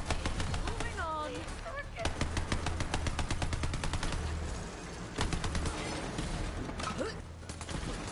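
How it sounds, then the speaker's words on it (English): A light machine gun in the video game Borderlands 3 fires in long, rapid bursts, the rate climbing as it goes, loud and dense, with a speaking voice partly under the gunfire. "it's an LMG, and it literally shoots faster and faster"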